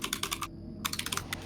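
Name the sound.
fast typing on a computer keyboard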